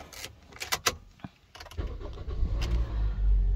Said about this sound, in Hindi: तो इसको गाड़ी को कर लेते हैं जी स्टार्ट।